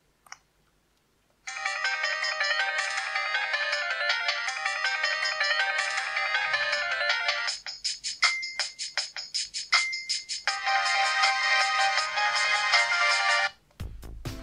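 A Sony Ericsson P990i phone plays a bright electronic melody ringtone, loud and continuous for about twelve seconds, with a choppier stuttering passage in the middle before it stops abruptly.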